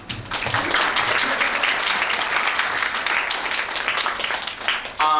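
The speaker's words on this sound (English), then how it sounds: "a round of applause one more time for them, please" An audience claps in steady, full applause for several seconds, dense and evenly loud, fading out at the end.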